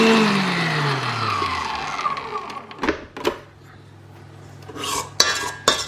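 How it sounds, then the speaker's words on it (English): Whisk clattering and scraping against a bowl of cake batter with Rolo, chocolate and banana, in short bursts with pauses between strokes. "give that another whisk"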